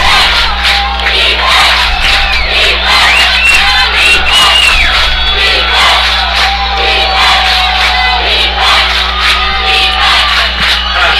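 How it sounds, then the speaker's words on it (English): Home crowd at a Modesto Junior College football game against American River, a loud, sustained roar of cheering, whooping and shouting across the whole stretch, dense and continuous. "And the Modesto crowd coming to life."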